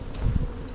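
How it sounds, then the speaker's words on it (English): Honeybees, nurse bees shaken off a hive frame into a container, buzzing as a steady close hum for a brief moment with no talk. "Now I'm going to shake the bees into the container."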